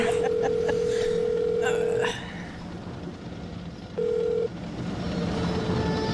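A telephone in the video game Silent Hill: Shattered Memories gives a steady electronic dial tone for about two seconds, then a shorter repeat of the tone. Other game sounds run in the background.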